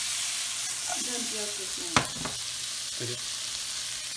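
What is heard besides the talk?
tomatoes sizzling as they are added to the pan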